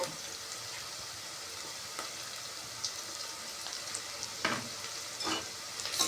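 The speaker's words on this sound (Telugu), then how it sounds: "ఉల్లిపాయ పచ్చిమిర్చి ఫ్రై అయినాయి కొంచెం ఇలా ఫ్రై అయినాయి కదా ఫ్రెండ్స్" Onions and green chillies fry in a pan with a soft, constant sizzle and occasional light stirring.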